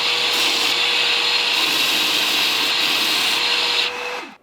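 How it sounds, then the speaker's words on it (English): Belt sander grinding a hybrid handle blank of wood and resin, a loud continuous abrasive whir with rubbing texture that cuts off sharply near the end. "On the sander, when you're moving from the wood into this resin section, the resin grinds much faster than the wood does."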